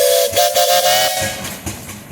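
Steam whistle on a small-scale steam traction engine at an antique tractor parade, blowing one loud, hissing, breathy blast that fades into escaping steam and chuffing, with no voices.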